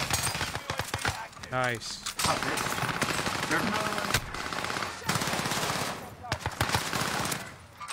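Automatic weapon fire in a Call of Duty match, dense rapid bursts with scattered single shots running through the clip, with an excited player's voice speaking briefly over the gunfire.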